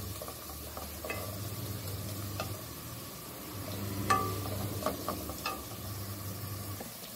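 Onions stirred as they fry golden in a pot for a wedding-style Kokani mutton salan, soft sizzling underneath with occasional spoon scrapes and light clinks, fairly quiet and steady.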